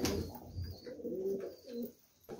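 Pigeons coo repeatedly inside a bird coop, their low throaty calls rolling in soft overlapping phrases at close range with no talk.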